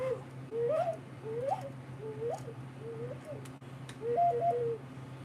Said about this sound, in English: Here's an ocarina. It sounds like an owl.